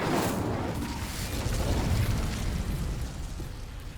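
Incendio fire spell blast in Hogwarts Legacy: a sustained roaring, rumbling burst of flame that holds steady for several seconds before easing slightly, loud and close with no talking.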